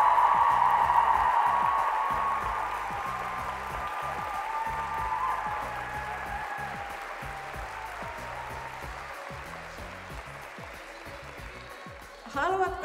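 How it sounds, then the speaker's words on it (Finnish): Warm audience applause after a gymnastics performance, sustained crowd clapping that slowly fades over several seconds, with a speaking voice and tones running over it near the start and a brief bump near the end. "Kiitoksia todella paljon AGG Mutsi ja vielä kerran älyttömän suuret aplodit."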